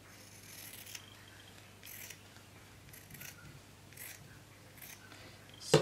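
Scissors snip through paper ephemera for a handmade journal, several separate crisp cuts spaced about a second apart over a faint steady background hum.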